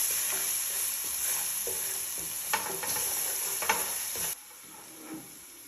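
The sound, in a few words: mixing spicy samosa filling in a pan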